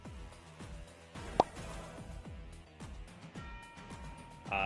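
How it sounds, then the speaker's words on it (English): A cartoonish cork pop rings out as an infector item slips into a bag in a video game, a single bright plop standing out over a busy backdrop of rhythmic game sounds and music. "sound of a cork popping as it slips in."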